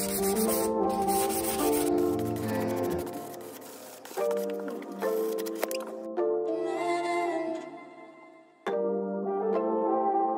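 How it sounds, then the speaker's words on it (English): Wood being sanded smooth with 220 grit sandpaper while restyling a mid-century modern dresser, the rubbing strokes running close and steady with music playing over them. "just make everything smooth by sanding it with a 220 grit."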